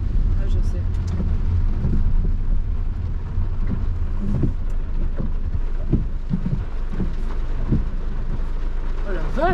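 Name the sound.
rain falling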